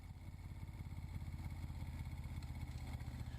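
A 1972 Moto Guzzi Eldorado rides forest trails, its engine a steady, throbbing low rumble with a rhythmic chug that stays even throughout, heard alone.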